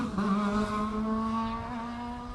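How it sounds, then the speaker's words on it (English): A Vauxhall Corsa rally car engine passing at a distance during a time trial stage, its steady harmonic drone holding a high rev note with slight pitch shifts, fairly faint and unaccompanied. "That Corsa is starting to sound really crisp."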